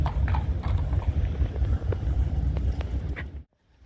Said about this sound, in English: here is Ballistic Moon, lovely gelding